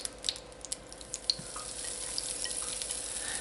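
Sausage fries in oil in a pan for a breakfast casserole, a soft, steady sizzle with a few small clicks and pops near the start and no talk.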